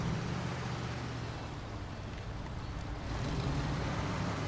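Heavy truck engine in the Snow Runner game laboring uphill on a hairpin serpentine climb, a steady low rumbling drone that holds at constant loudness throughout, with no talk.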